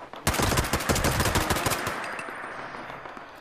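Loud rapid automatic gunfire in a video game, a dense burst of rattling shots for about two seconds that trails off into echoing noise, with no speech.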